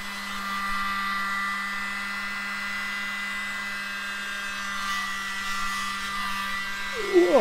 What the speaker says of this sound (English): Yes, we have mini blower.